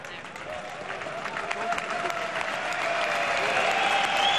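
Crowd applause fills a kickboxing event in Bucharest, a steady wash of clapping and cheering that builds slightly toward the end.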